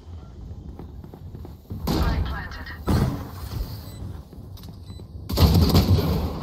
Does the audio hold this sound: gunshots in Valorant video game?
yes